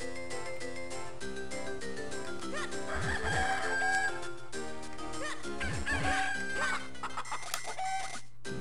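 Chickens cluck and a rooster crows as game sound effects in The Legend of Zelda: The Minish Cap, heard over steady background music with a few brief repeated bursts, loud and close.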